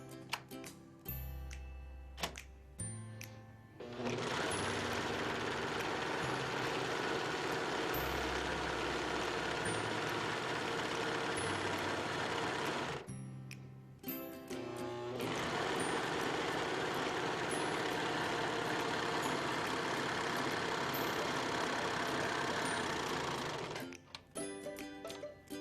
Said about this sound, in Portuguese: Porque aí a overlock no tecido fino vai ficar melhor ainda